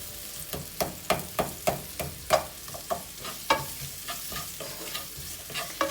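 Salted onions frying in a pan, stirred with a utensil, make a rhythmic series of close scrapes and clacks over a continuous sizzle, about a dozen strokes in six seconds.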